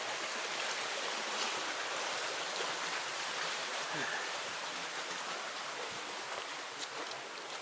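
A creek rushes and babbles steadily beside a foothills hiking trail, a full, close wash of flowing water with no voices.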